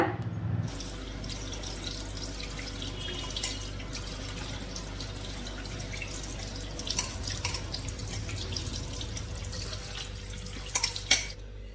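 Fenugreek leaves are rinsed under running water in a kitchen sink, with a steady close splash and patter of water and a few brief sharp knocks near the end.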